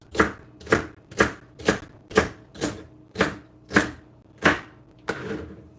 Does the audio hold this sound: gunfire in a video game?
no